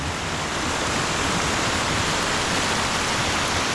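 Water rushes steadily down a stone-lined irrigation channel (acequia) in Lanjarón, a loud, continuous broadband wash close by with no break and no voices.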